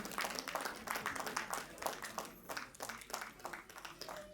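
An audience at a blanket distribution ceremony applauding steadily, dense clapping filling the whole stretch at moderate volume without voices.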